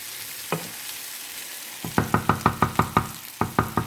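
Chicken liver frying in a pan is stirred with a utensil, giving a quick run of about a dozen sharp, evenly spaced scrapes and knocks over a soft sizzle, after one isolated tap earlier on.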